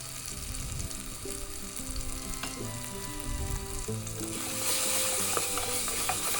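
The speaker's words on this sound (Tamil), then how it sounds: "சோம்பு, பட்டை, கிராம்பு, ஏலக்காய், இதை நல்லா நம்ம வதக்கி எடுத்துக்கலாம்." Fennel, cinnamon, cloves and cardamom sizzle in hot oil in a pan for mutton keema masala, with steady frying crackle, occasional stirring scrapes and a sharper hiss swelling toward the end.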